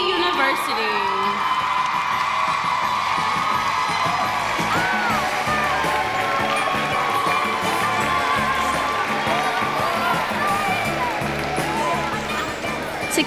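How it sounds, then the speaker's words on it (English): Audience at the Miss Tuskegee University pageant rising to applaud, loud sustained clapping mixed with whoops and cheering shouts, close and filling the room. "Now please stand and applaud the 85th Miss Tuskegee University"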